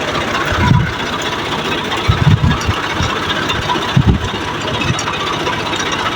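A Green Tractor Ghazi 65hp diesel engine runs steadily with a rotavator attached, a loud, continuous rumbling drone with periodic heavier thumps, close by and with no voices.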